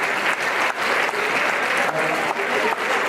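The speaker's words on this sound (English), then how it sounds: "Let's give them a big round of applause." An audience at a community dance competition applauds the performers, a loud, sustained wash of clapping with slight periodic dips, steady throughout its short span and free of speech.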